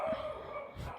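A dog barks twice, short and close: one bark at the start and a second near the end, over a steady low background hum.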